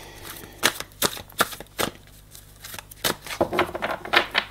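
A deck of playing cards is cut and handled in a tarot-style reading, giving a series of crisp papery riffles and snaps spaced irregularly across the clip, close and fairly loud, with no voices.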